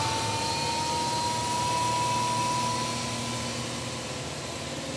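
A Toyota Land Cruiser 1FZ engine idles steadily and smoothly, a constant low hum with a faint high whine over five seconds, no voices.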